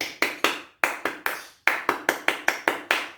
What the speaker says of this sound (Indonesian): Nah, itu tepuk pramuka.